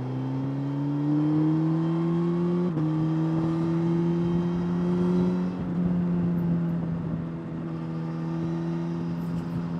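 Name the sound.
Suzuki GSX-S1000 GT motorcycle engine while riding in B mode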